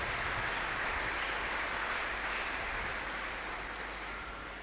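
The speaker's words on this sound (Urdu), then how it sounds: "ایک بار پھر بھرپور تالیوں میں آپ کو مبارکباد دیتا ہوں" A church congregation gives sustained loud applause for fathers at a Sunday homily on Father's Day, a dense steady clapping that fades slightly toward the end.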